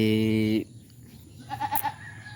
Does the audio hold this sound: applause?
no